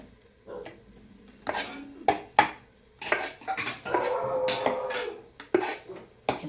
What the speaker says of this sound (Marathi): आता हे इडलीचं भांडं मी ह्याच्यामध्ये असं ठेवून देते